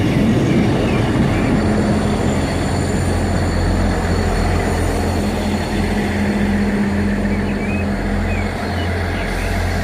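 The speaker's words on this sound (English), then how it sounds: "Our train is going to be a 444, so this is a 450" A British Rail Class 450 electric multiple-unit train rumbles past continuously at close range, a steady loud roar of wheels and motors with a faint squeal running through.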